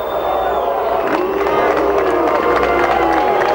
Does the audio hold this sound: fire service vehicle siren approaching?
no